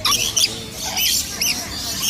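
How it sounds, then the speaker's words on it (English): Lories, including a purple-naped lory and a rainbow lory, feeding at Singapore's Bird Paradise, with wet, high-pitched slurping and squeaky chatter in short bursts, close and fairly loud, with no talk. "Birds are slurping their food in delight."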